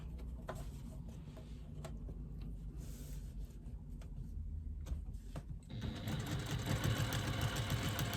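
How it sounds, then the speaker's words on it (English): A sewing machine stitches fabric strips for a pouch with a continuous mechanical whir and rapid needle ticking, growing louder and busier partway through. "Stitching next to the seam, the folded part."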